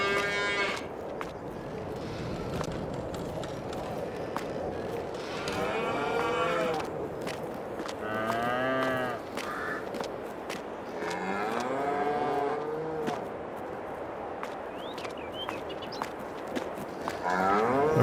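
Cattle on a Polish farm in Farming Simulator 22 low repeatedly in long drawn-out moos, several overlapping calls spread across the stretch, moderately close with a soft barn ambience and no talking.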